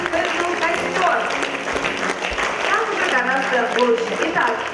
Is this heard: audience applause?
yes